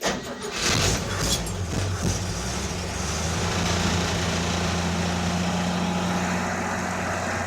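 A 1969 Chevy C10 pickup engine cranks and catches, then settles into a steady, loud idle with a low, even rumble that runs unbroken to the end.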